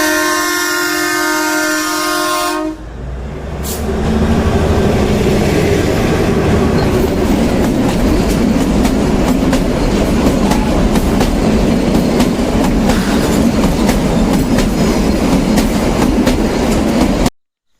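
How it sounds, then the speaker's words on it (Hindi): A train arrives and rolls past close by, a steady loud rumble and rattle of wagons with clickety-clack rhythm lasting over ten seconds, preceded by a brief horn-like tonal blast at the start. "ये आप देख सकते हैं, आई है ट्रेन, निकल के आई है।"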